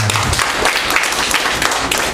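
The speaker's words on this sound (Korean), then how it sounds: "자, 박수 쳐주세요." Audience applause at a Korean members' gathering opening ceremony, a short dense burst of clapping that stays steady throughout, with voices mixed in underneath.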